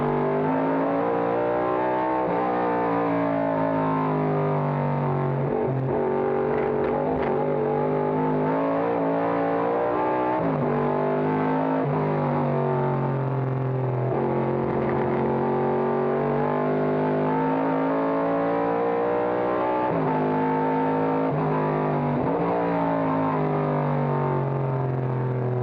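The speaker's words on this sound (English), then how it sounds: "Epsman challenging Lala as they go by us at start-finish" Vintage race cars, a 1971 AMC Javelin and Mustangs, roar past at start-finish during a historic Rolex reunion race, loud continuous engine howl with rising and falling revs as they pass close by.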